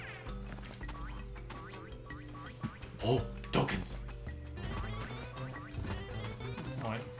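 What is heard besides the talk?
seagulls squawking in video game Pac-Man World 2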